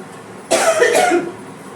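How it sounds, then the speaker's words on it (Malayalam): A single close, harsh cough bursts out after a brief quiet moment, then fades back to low room noise. "നല്ല ചുമയുണ്ട്"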